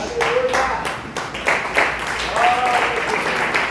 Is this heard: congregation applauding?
yes